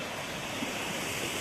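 Heavy water flow at the top of a waterfall in Karnataka's hills, a dense, continuous roar of rushing water heard up close with no voices.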